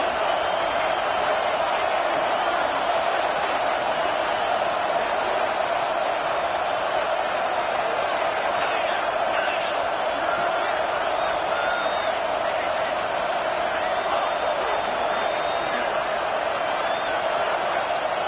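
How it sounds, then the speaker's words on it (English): LSU college football stadium crowd, a loud continuous roar of many voices filling the background while a commentator talks over it. "This crowd roaring to try to get an early 3-and-out."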